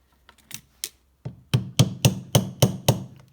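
A part is tapped into place on a Sea-Doo Speedster Mercury Sport Jet pump, with a few scattered light taps followed by six sharp, evenly spaced metallic knocks up close.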